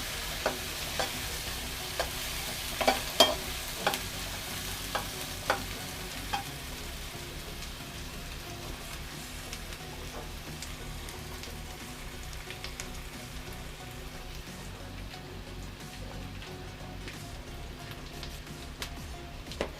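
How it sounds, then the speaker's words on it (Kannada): Onions frying in a pan for a spicy egg masala curry, a steady close sizzle with scattered crackles and pops that continue for the whole stretch, with no voices. "ಈರುಳ್ಳಿ ಹಾಕ್ತೀನಿ. ಈರುಳ್ಳಿ ಸ್ವಲ್ಪ ಫ್ರೈ ಆಗಲಿ."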